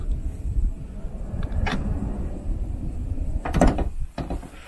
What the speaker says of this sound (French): Il faut ouvrir la porte.